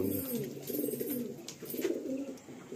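A male Malbai pigeon in a single cage gives soft, low, rolling coos in a quiet, fairly faint series.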